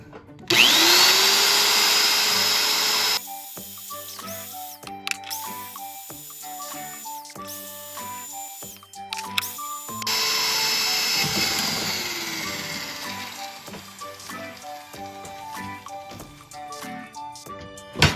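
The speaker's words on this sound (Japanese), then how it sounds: "まずこの真ん中に穴を開けるっていうのが一番難しいんじゃないかと思うんですけど" A drill bores into a rust-snapped broken bolt on a Suzuki Jimny, running in loud sustained bursts that start and stop several times, with faint metallic ticks and clinks between runs.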